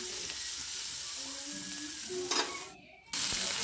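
Onion and tomato frying in oil on a tawa, a steady soft sizzle with faint stirring scrapes, moderately quiet and without talk, with a brief dip near the end.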